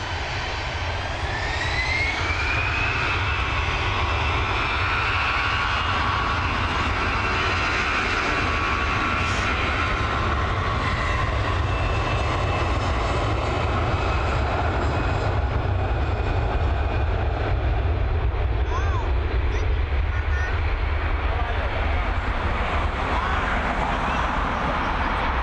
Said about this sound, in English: Here we go, EI528 now, this Airbus A320 heading over to Charles de Gaulle.